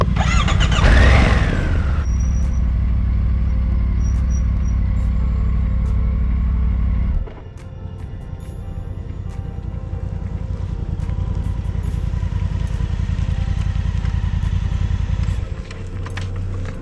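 A motorcycle engine rumbles steadily and loudly up close while riding on the Dalton Highway in Alaska, with a brief high squeal near the start and a shift in engine tone partway through.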